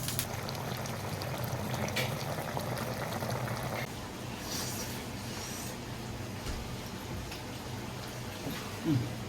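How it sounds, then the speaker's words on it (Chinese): Pork belly braises in a pot, a quiet, steady bubbling simmer with soft liquid sounds throughout and a faint clink near the end, no one talking. "大火烧开，然后转小火炖40分钟"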